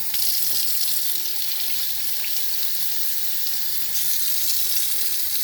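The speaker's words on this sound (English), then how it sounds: "And run hot water." Hot water runs steadily from a tap into a sink, a constant hissing splash with no pauses.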